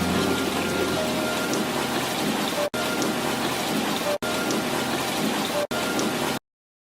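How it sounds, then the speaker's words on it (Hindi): Steady heavy rain pours down in a dense hiss, broken by a few abrupt cuts, with a faint rumble beneath. "तुरंत राज्य में बारिश होने लगती है।"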